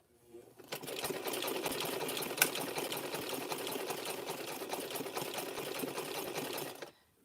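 A sewing machine stitches a rope chain in one continuous fast-running burst of about six seconds, steady and fairly close, with no speech over it.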